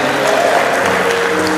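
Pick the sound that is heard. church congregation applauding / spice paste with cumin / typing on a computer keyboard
church congregation applauding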